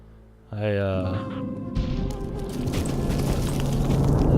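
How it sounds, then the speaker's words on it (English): A deep, droning groan swells up, followed by rumbling, crunching impacts and a building roar from a golem in Gothic 2. "That was the sound of the golem"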